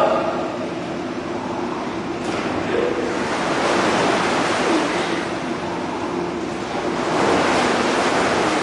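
Two rowers pull through the water of an indoor rowing tank at a university boathouse, producing a loud continuous rushing and churning wash that swells in surges with each stroke.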